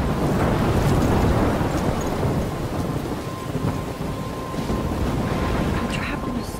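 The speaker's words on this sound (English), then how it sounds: "I'm trapped in a storm?" A stormy coastline in the video game Life is Strange roars with heavy rain, gusting wind, crashing waves and rumbling thunder. The din is dense and continuous, louder at the start and easing slightly later.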